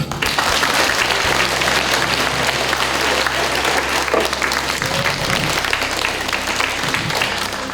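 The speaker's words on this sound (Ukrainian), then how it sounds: "Прошу оплесків." A large audience claps steadily at a Vyshyvanka Day charity gathering at a university in Rivne, the applause dense and sustained from start to finish with a low hum running beneath it.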